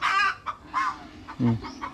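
Chickens cluck and squawk close by in several short, uneven calls, one lower and throatier burst standing out near the middle, with faint farmyard background.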